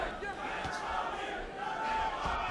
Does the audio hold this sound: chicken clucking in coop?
no